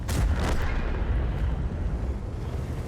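Repeated tank cannon fire and explosions in the World of Tanks game during a tank destroyer battle in Berlin, heavy dense booms and rumbling blasts filling the whole stretch without voices.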